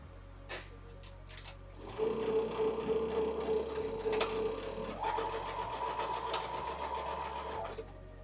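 A sewing machine stitches quilt seams, a close steady mechanical whirr with rapid rhythmic needle clatter running for several seconds after a few soft handling clicks.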